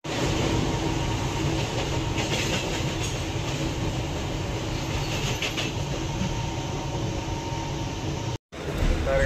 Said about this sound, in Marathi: आता आम्ही दादर स्टेशनवरून ट्रेन पकडली आहे